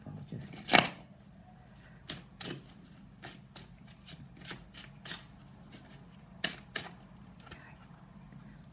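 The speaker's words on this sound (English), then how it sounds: "I think I'm going to just do another little quick shuffle." Tarot cards are shuffled by hand in quick, irregular bursts of crisp riffling and tapping. A sharper snap comes near the start, and there is a low background hum between the bursts.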